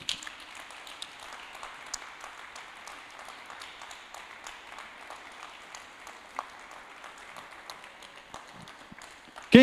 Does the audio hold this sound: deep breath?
no